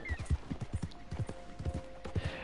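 In Red Dead Redemption 2, a horse's hooves clip-clop in a steady walking rhythm, with quiet game ambience and a faint tone underneath.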